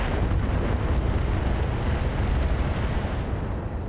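Heavy AX autocannon rounds slamming into the side of an Atlas assault mech in the RogueTech BattleTech game, a dense, continuous rumbling barrage of loud booming impacts with no pauses.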